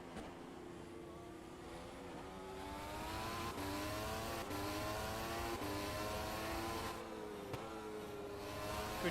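Race cars circuit the track at speed, a steady loud engine roar with shifting pitch sweeps as cars pass and change gear, building slightly over the stretch.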